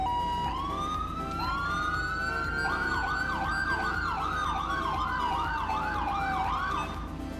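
An electronic siren from the video game GTA V rises into a long wail, then switches to fast, repeating high-low yelps, loud and steady with no voices.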